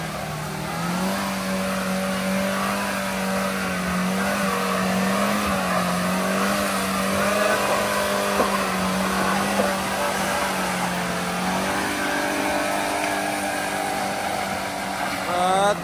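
A car engine drones loudly and steadily throughout, its pitch holding level and then stepping up near the end, with voices faintly in the background.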